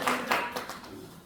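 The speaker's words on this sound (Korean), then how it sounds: "두 분에게 박수 한번 해보내주세요." Audience at a Korean lecture clapping for two people, a brief scatter of a few hand claps, close and moderately loud, fading quickly after about a second.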